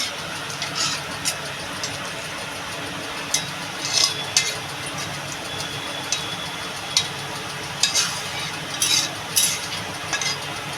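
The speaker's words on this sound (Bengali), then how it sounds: "আমি এবার ওলটা ঢেলে দেবো" Chunks of elephant foot yam tip into a hot pan and get stirred, a steady frying hiss carrying scattered scrapes and clinks of a spoon against metal, close by with no talking.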